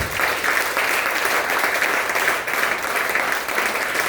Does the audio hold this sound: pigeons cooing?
no